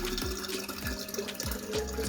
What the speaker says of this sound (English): I'm pouring in some water, some fresh water.